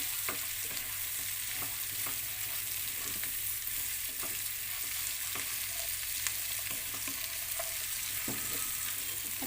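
Pancit bihon rice vermicelli and vegetables fry steadily in a hot pan, with a constant loud sizzle and periodic scrapes and clinks of stirring throughout.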